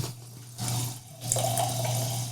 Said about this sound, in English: We're gonna pour it over our ice.